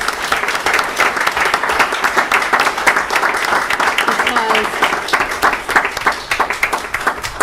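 Sustained, dense applause from the audience at a town council meeting in Fanwood, loud and steady throughout, with some voices faintly mixed underneath.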